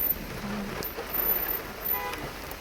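Steady rain falling at night in a large forest, an even, close hiss of drops with soft patters across the whole stretch and no voices.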